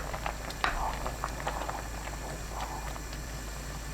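Doenjang soup with oysters and spinach bubbling in a pot, a soft continuous simmer with faint irregular pops and small ticks over a low steady hum, no talking.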